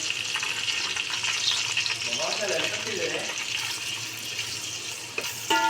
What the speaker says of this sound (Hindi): प्याज को हमने अच्छा सा ब्राउन करने तक पका लेना है